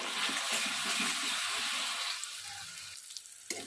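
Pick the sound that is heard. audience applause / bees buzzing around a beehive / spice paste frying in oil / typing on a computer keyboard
spice paste frying in oil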